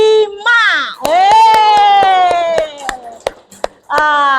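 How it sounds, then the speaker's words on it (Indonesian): Children in an Indonesian classroom cheer and shout together for group 3, a loud sustained chorus of voices with sharp claps and chopping hits breaking through, then another burst of shouting at the end. "Tepuk tangan untuk kelompok 3."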